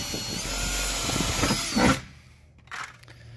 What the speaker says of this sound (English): I'm gonna drill a pilot hole real quick and see if it's close